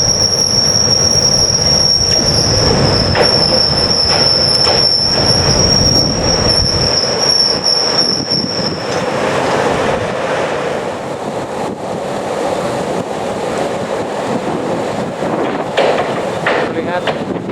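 Rail-laying train moving long rails along a high-speed slab track line, with steady loud rumble, sustained high metallic wheel squeal for the first half, and scattered clanks throughout.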